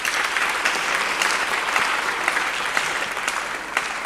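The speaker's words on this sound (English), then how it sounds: "Let's have a round of applause for Greg real quick." An audience claps for Greg at a real estate deal-of-the-month presentation, a steady dense round of applause held at even loudness for several seconds with no voices over it.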